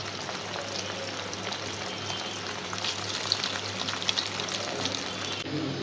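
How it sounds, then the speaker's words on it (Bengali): Chicken balls deep-frying in hot oil, a steady dense crackling sizzle with small pops, close and even throughout with no talk. "সুন্দর করে বাদামি কালার করে সুন্দর করে ভাজাভাজি করবো খুব সুন্দর হচ্ছে তেলে পড়তে পর"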